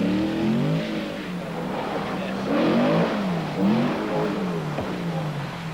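A 1983 rally sprint car drives hard over a loose surface toward a tarmac section, its engine revving up and down in sweeping pitch changes, fairly close and sustained.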